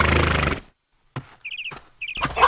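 A cartoon horse neighs and whinnies in short bursts between brief gaps, near and fairly loud, with what sounds like hoof clops, after someone speaks at the start.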